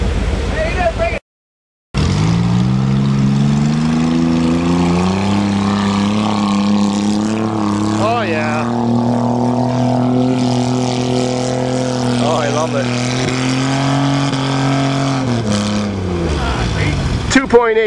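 A Jeep with a Chevy engine revs through mud, the motor holding a loud, steady drone that rises and falls in long sweeps, with voices occasionally heard beneath it and one brief gap near the start.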